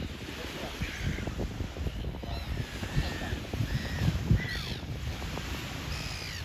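Birds call in short, repeated chirps and squawks close to people beside the Jet d'Eau fountain on Lake Geneva, over steady wind and water noise with low rumbling in the background.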